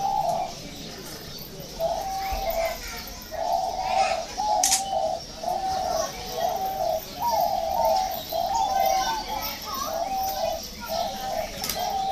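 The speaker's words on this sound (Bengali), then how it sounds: "অস্ট্রেলিয়ান মিনি ঘুঘু" Repeated soft coos of an Australian mini dove in a steady rhythmic series, with chatter and children's voices in the background at a picnic spot.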